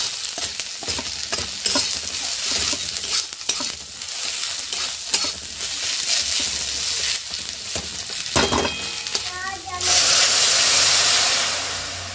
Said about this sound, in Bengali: আজকের আমাদের এরকম ডাল, মানে টমেটোরটা সহ ভাজা ফোড়নে, টমেটোর, পেঁয়াজ, তারপরে হচ্ছে পাঁচফোড়ন